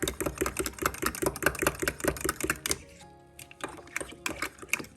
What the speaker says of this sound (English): I'm just gonna whisk this up to add to our, thicken our gravy a little bit.